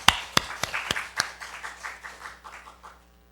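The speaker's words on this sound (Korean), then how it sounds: "다시 한번 우리 영광 박수 한번 드립니다." Churchgoers at a Sunday afternoon worship service give a short burst of applause, opening with a few sharp, close claps that loosen into scattered clapping and fade out within about three seconds.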